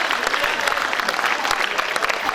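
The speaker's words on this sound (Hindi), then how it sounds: "जोरदार ताली बजा दीजिएगा।" An audience at a Hindi poetry gathering (kavi sammelan) claps loudly and steadily, a thick burst of crowd applause that fills the whole moment without speech on top.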